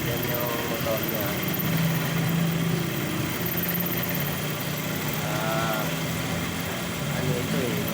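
An electric motor on a breaker reboring machine hums steadily nearby, with someone talking over it throughout.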